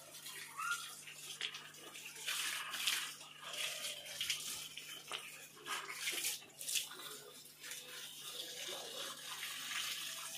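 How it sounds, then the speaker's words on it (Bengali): Water pours over potted plants on a hot day, splashing and trickling in uneven bursts at low volume for several seconds. "পর্যাপ্ত পরিমাণে জল এইভাবে দিতে থাকবেন। প্রত্যেকটা গাছকে এইভাবে স্নান করিয়ে দেবেন।"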